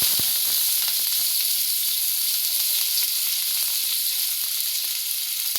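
Onion sizzling steadily in hot oil in a pan over high heat while a street-style veg roll filling is made, a constant bright hiss with scattered small crackles and pops.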